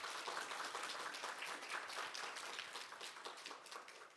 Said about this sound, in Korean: 두 분께 여러분 다시 한번 큰 박수 보내주시면 고맙겠습니다.